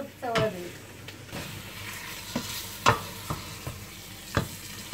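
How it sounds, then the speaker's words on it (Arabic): Meat is stirred with spices in a tajine pot, a spoon scraping and knocking against the pot in repeated strokes over a soft, steady frying sizzle, close and alone. "دابا غادي ندور داك اللحم بحال هنا"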